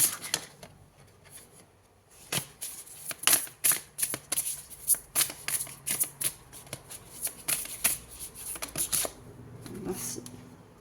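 Tarot cards being shuffled in quick, crisp bursts of riffling and slapping, close and fairly loud, with brief pauses between flurries.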